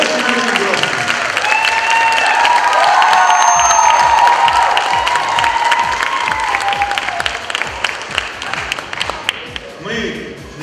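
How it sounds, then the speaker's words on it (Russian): Concert hall audience applauding at the 2014 Yuzhny Express international festival-competition in Yalta: sustained, dense clapping from a large crowd, loud and steady for about eight seconds before thinning out, with a few voices mixed in. "Ваши аплодисменты действительно были дружескими, честными и очень огромными."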